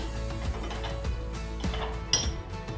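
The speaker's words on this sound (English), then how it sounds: "14mm wrenches to tighten it up. We're just going to snug it up right now at this point" A 14mm wrench snugging bolts on a truck light mount, a few quick metallic ratcheting clicks and taps close by, ending with a brief bright clink.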